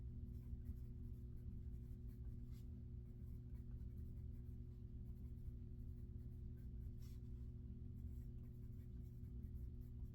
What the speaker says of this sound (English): you'd just be writing as fast as you could, and it'd be pencil and paper